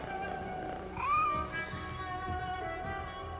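A cat in Assassin's Creed Mirage lets out a single short meow, faint and close, over a constant background of ambient game sound.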